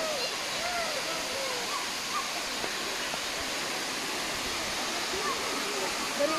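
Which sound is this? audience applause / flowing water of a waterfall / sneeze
flowing water of a waterfall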